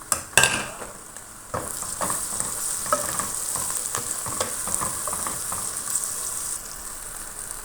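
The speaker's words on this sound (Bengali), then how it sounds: "পেঁয়াজ হালকা ভাজা হয়ে গেছে, এখন দেব টমেটো কুচি," Chopped tomato hitting a pan of lightly fried onion in olive oil, a sharp clatter at the start, then a steady close sizzle with repeated stirring and scraping of a utensil against the pan, no speech.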